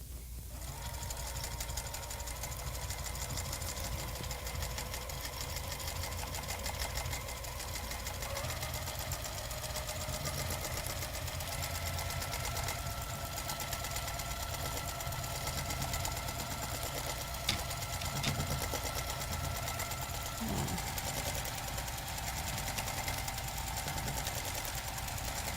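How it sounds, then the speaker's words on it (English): A sewing machine runs steadily while quilting, its fast even mechanical hum and rattling stitch rhythm continuing throughout with slight shifts in speed, close and moderately loud. "notice that the faster the machine goes, I want to move it a little faster to keep my stitches nice"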